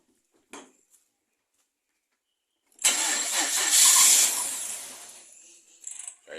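A Suzuki with a swapped H25A engine and custom turbo fires up for the first time after new coils and spark plugs: a short crank attempt, a pause, then a loud catch and rough idle lasting a few seconds before dropping.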